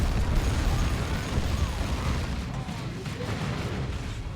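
A looted Ork tank blowing up during a Dawn of War 2 battle between Space Marines and Orks, a muffled, continuous rumble of explosions and combat noise with faint talk underneath.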